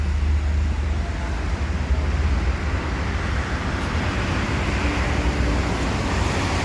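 A passenger bus on the Bandung–Medan route rolling past on a road, heard as a steady broadband rumble and road roar with wind noise, fairly loud and continuous throughout with no voices.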